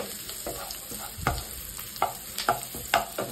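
Steady sizzle of onions frying in a pan, broken by several sharp scraping clinks of a utensil stirring at irregular intervals.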